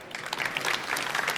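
An audience at an ocean energy innovation pitch event in Amsterdam applauds, a brief, dense burst of clapping at a steady level.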